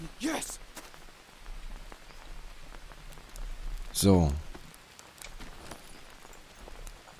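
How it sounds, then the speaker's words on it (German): Steady rain falling in the survival video game Green Hell, a soft continuous patter under a player speaking briefly. "Es hat bisher die ganze Zeit geregnet."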